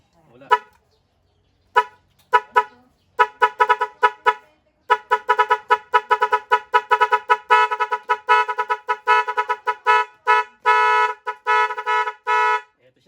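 Loud, close blasts come from a compact dual air horn fitted to a bike, starting with a few spaced honks and building into fast, repeated bursts and longer held tones.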